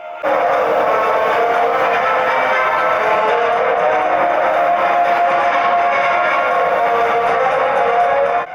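Train arriving at a station platform where a crowd waits with flowers: a loud, steady rumbling roar of rolling rail cars with a faint tonal edge, sustained for several seconds.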